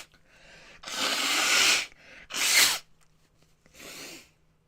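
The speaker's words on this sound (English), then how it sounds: "let me blow my nose" A person blows their nose close to the mic in three bursts: a long forceful honk, a shorter sharp blast, then a fainter final puff, with soft breaths between.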